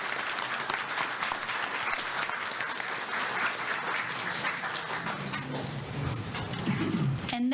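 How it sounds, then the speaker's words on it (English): Sustained applause from an audience at a school board meeting, steady and dense clapping for several seconds before fading near the end. "Let's give them one more round of applause."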